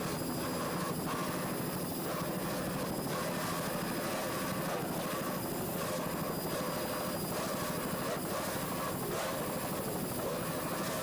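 A helicopter flies over a powerboat race, its rotor giving a constant loud drone with a faint rhythmic thump that holds steady for the whole stretch.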